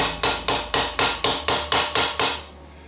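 A hardened knife edge strikes mild steel held in a vise, nine loud, evenly spaced metallic blows, each ringing briefly before the next, then stopping.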